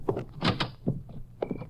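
A back door opens in an old-time radio drama, a short sequence of dull wooden thunks and a sliding scrape followed by a brief latch click near the end, close and moderately loud.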